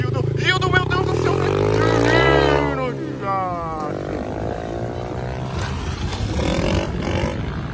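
A motorcycle spins a tight zerinho circle during a Brazilian street wheelie meet, its engine revving in rising and falling sweeps, loud and close, with voices shouting over it.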